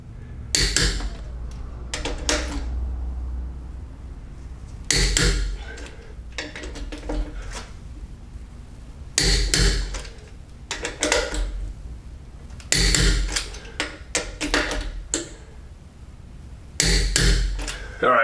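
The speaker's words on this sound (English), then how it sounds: "make sure these are torqued down so those wheels don't fall off while you're en route." Lug nuts on a pop-up camper wheel are tightened with a tool in bursts of sharp metallic clicks and ratcheting, about five clustered sequences separated by quieter gaps, close by.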